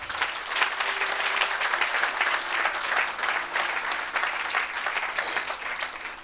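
A church congregation at a Saturday service applauds and cheers for Jesus, steady loud clapping from a large crowd that carries on without a break.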